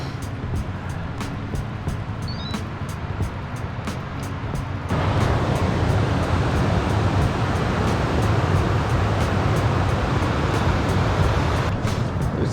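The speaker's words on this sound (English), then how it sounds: "Well, I could hear some water flowing, and yeah, guess what's here?" Water pouring over a weir on the River Trent, a broad, steady rushing roar that grows noticeably louder and closer partway through, with light ticking clicks at first.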